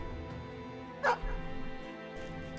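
A dog in a medieval strategy video game lets out one short bark over steady game music, with a softer yip following.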